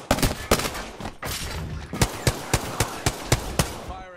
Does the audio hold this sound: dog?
no